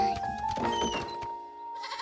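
Baby goats bleat in a cartoon farm scene, a couple of wavering, nasal cries close up, with a short quieter pause before another sound starts.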